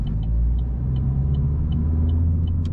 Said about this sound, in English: It's because he's jealous of my exhaust, I think.